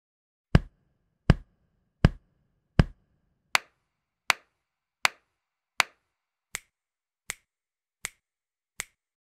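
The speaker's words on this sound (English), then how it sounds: "Four chest, four claps, four snaps." Body percussion in an even, steady pulse: four deep chest pats, then four sharp claps, then four light, crisp finger snaps. Each hit is clean and isolated against silence, and they grow softer through the sequence.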